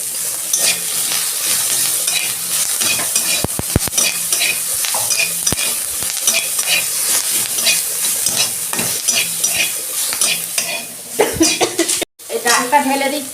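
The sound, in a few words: curry leaves sizzling in hot oil for vegetable dal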